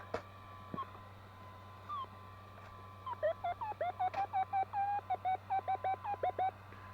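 A metal detector's signal tones ring out while searching for coins: a few isolated beeps, then a rapid run of repeated warbling tones at moderate loudness, with a faint steady hum in the background.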